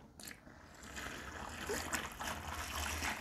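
Hot water pours onto fine sugar in a large vessel, a soft, steady splashing flow that is fairly quiet and near, with no talking.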